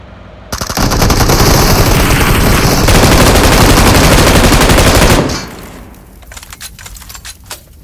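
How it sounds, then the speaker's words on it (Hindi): Sustained loud machine gun bursts in a shooter video game, rapid continuous firing for several seconds that cuts off abruptly, followed by scattered quieter clicks and faint shots. "गोलियां चलाओ,"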